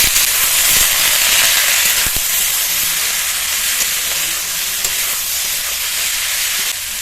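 Chicken skin pieces frying in a pan for ghugni, a loud continuous hissing sizzle that holds steady throughout, with a few faint knocks and no speech.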